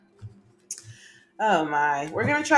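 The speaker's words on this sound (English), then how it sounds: "Forgive my shuffling." Tarot cards being shuffled by hand give a few soft, crisp clicks and riffles, quiet and sparse, before a person starts talking over them.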